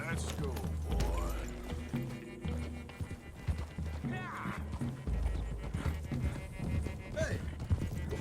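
Horse hooves clip-clop with an occasional whinny in Red Dead Redemption 2, mixed under game music and a voice talking throughout.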